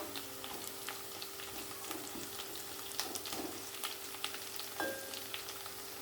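Dried red chillies frying with golden onions in hot oil for a carrot fry, a steady soft sizzle with scattered crackles and pops, fairly close and moderately quiet, no voices.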